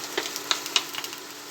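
Potato pieces frying in hot oil, with a steady soft sizzle broken by several sharp pops and crackles. No one speaks.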